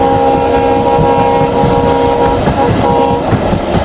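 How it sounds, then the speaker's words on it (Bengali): Mongla Commuter train running at speed through Digraj railway station, loud and close with a sustained horn and rhythmic wheel clatter over rumbling carriages. "আমরা মোটামুটি গতির সাথে দ্রুপাস যাচ্ছি দিগরাজ রেলওয়ে স্টেশনকে"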